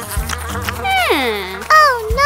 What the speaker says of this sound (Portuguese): Há uma mosca vindo em direção ao prato de pão.